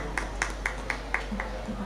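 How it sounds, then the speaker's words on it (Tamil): Audience hand clapping at a school annual day gathering of parents, with six or so distinct evenly spaced claps over steady hall hum and murmur. "உங்களுக்கு ஒரு கைத்தட்டு."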